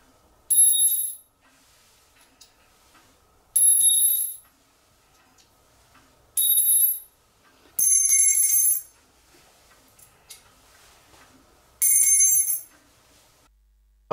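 Objects and a key thrown onto a kitchen floor produce five short, bright metallic clatters spaced a few seconds apart, each ringing briefly before quiet returns, with no talk.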